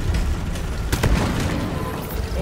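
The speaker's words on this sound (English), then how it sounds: "Sticky grenade!" A sticky grenade detonates in the video game Deep Rock Galactic with a loud, sharp boom. The blast rises briefly above a dense, constant wash of game noise.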